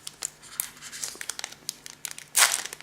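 Foil wrapper of a Pokémon Noble Victories booster pack crinkling and tearing open, with scattered small crackles building to one loud ripping burst near the end, close and without talk.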